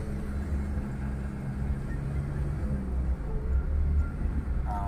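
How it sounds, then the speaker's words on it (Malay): A Ford Ranger T7 with incorrect gear ratio faults (codes P0731 and P0733) drones steadily with low engine rumble, the transmission shifting gears erratically and jerking throughout. "Dia tukar gear tak menentu."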